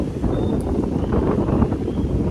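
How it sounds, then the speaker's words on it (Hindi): Steady evening wind blows outdoors, rushing continuously across the microphone as a loud, broadband roar with no talking. "अभी इवनिंग हो गई है और बहुत ही ज़्यादा अच्छी हवा चल रही है यहाँ पे"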